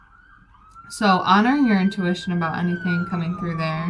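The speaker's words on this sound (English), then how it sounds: "Sorry if you can hear the sirens in the background," A distant emergency siren wails steadily underneath, while a person talks loudly and continuously in the foreground.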